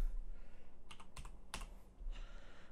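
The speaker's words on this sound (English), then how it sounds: "So for the host name, we're just going to type it in." A computer keyboard is tapped in a few quiet, close key clicks, with a short cluster of keystrokes over a low steady hum.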